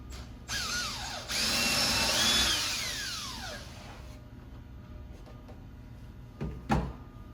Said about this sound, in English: if you have a drill with a drill bit in it, you want to pre-drill this ends